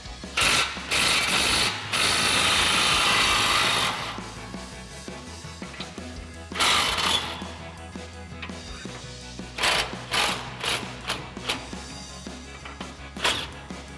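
A ratchet with a 21mm socket spins U-bolt nuts off a 2004-2020 Ford F-150, giving long rapid clicking runs, a pause, then shorter bursts and single clicks, close and loud with no talking.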